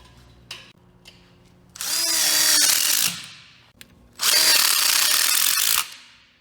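Power drill driving screws into a metal frame for a Green Egg XL grill cutout, two loud sustained whirring bursts of about a second and a half each, separated by quieter clanks and handling noises.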